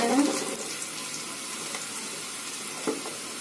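Onions frying in a pan until reddish-brown, a soft steady sizzle close by, with a couple of faint clinks over it.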